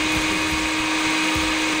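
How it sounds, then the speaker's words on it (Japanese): A blender in the video game Dead Rising Deluxe Remaster runs as a steady, loud, whirring motor drone with a sharp constant tone throughout, alone. "え、すごい、ミキサーで。"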